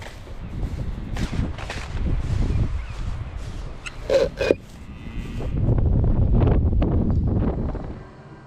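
Strong gusting wind buffets the microphone, roaring in uneven surges with a few sharp knocks midway, then a sustained heavy blast.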